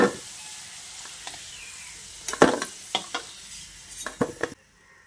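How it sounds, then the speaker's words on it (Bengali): Eggplant pieces fry in hot oil in a pan, giving a low steady sizzle. Sharp metallic clinks and scrapes from a utensil against the pan break in over the hiss, clustered toward the end before it cuts to near silence. "ওই তেলের মধ্যে বেগুনগুলোকেও ভেজে নিচ্ছি"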